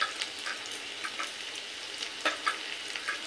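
Potatoes frying in oil in a pan, a faint, steady sizzle with small crackling pops close by, and no voices.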